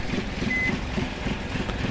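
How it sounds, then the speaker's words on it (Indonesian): Steady low engine rumble from a Bus Simulator Indonesia bus fitted with an STJ Iguazu sound set while reversing, with a short thin high beep partway through, continuous and fairly close. "untuk suara mundurnya di sini saya memakai ori"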